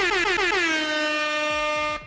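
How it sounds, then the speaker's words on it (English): A loud, sustained air horn blast sounding alone for about two seconds, its pitch sagging slightly at the start before holding steady, then cutting off abruptly. "where's the air horn?"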